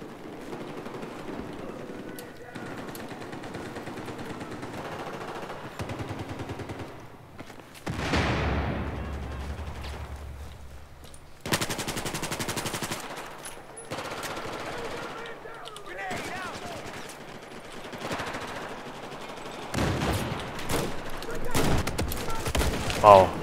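Rapid automatic rifle fire from an M416 in Battlefield 4, with repeated bursts and sustained volleys, loud and close, plus explosive booms and game effects, while someone talks over parts of it.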